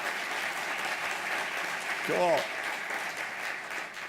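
An audience at a memorial service applauds and cheers for the Anderson family, a soft, steady wash of clapping heard from a distance, with one voice briefly speaking midway.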